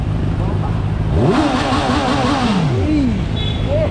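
A stock-exhaust motorcycle resembling a small Z1000, a dealership demo unit, revs up and settles back once in a smooth swell of engine pitch, close by, with people talking over a steady idle.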